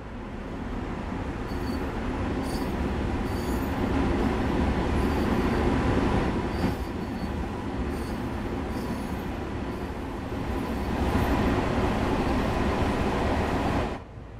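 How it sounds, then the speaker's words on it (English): An M7 electric multiple unit train of the Long Island Rail Road in Train Sim World 2 runs steadily with a constant rumble and rolling wheel noise, faint rhythmic clicks over the track, continuous and close for the whole stretch. "You are currently riding an M7 electric multiple unit formed of four A and B coach pairs."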